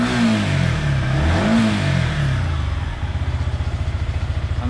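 A motorcycle engine revs up toward about 7,000 RPM, rising in a loud, close climb before settling into a steady, pulsing idle-like throb near the end.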